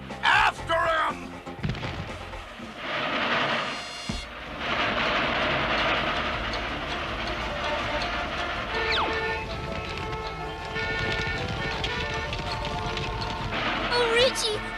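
A cartoon train speeds along the tracks with rushing mechanical clatter and a brief whistle, under loud background music and voices talking over the steady rumble.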